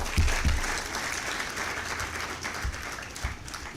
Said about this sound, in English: He deserves another clap.